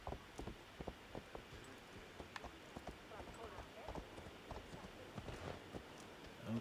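Steady clip-clop of hooves as horses walk along, rhythmic and fairly soft, in Assassin's Creed Valhalla.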